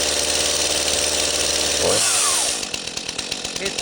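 Stihl MS251C chainsaw running after its first startup, a loud high-revving buzz that dips and then settles into a rhythmic, pulsing idle near the microphone.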